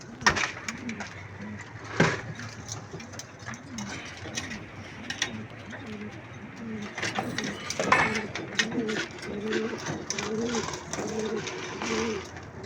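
A flock of hungry pigeons coos steadily while being fed, mixed with scattered mechanical clicks and rattles and some brief voices.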